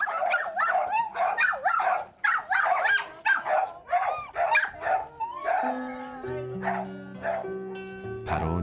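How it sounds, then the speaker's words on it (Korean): Several dogs bark rapidly and excitedly in an overlapping, continuous volley, close and loud, with some yips and whining; a soft musical tone rises underneath toward the end. "그런데 갑자기 짖기 시작하는 개들"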